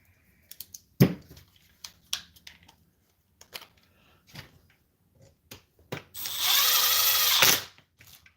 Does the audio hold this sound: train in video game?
no